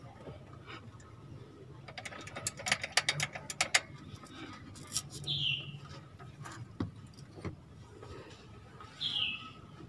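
A ratchet wrench loosens a lower bolt while a fan belt is changed on an older Daihatsu Terios/Rush, giving a quick close burst of clicking ratchet strokes, with birds chirping outdoors in the background.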